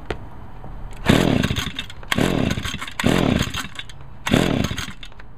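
A Stihl two-stroke handheld yard tool, either an FS 85 trimmer or BG 55 blower, is pull-started with the throttle held: four loud, evenly spaced ratcheting cranking bursts, each about half a second, separated by short quiet pauses.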